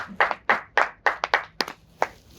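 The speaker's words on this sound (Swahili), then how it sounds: "Jipigeni makofi sasa." A group of children claps hands in a quick, slightly uneven run of about ten sharp, close claps.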